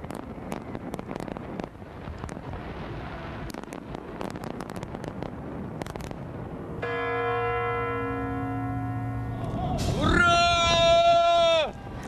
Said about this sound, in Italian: Con i rintocchi del Big Ben anche Londra saluta il nuovo anno.